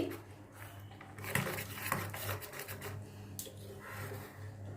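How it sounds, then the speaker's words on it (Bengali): A spoon scrapes and stirs chocolate biscuit cake batter in a bowl, giving close, irregular rubbing and scraping strokes with light clinks against the bowl, alone without talking. "ভালো করে মিশিয়ে নিচ্ছি।"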